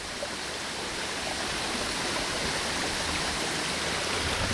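Rainwater runs in a steady, continuous rush through a channel opened up where a tree was removed after a rainstorm, a broad hiss of flowing water holding constant level throughout with no voices.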